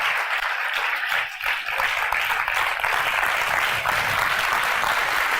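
An audience applauds steadily as a guest speaker, Pandit Manish ji of Meerut, is called up to the stage; the clapping is dense and continuous throughout, with no talk over it.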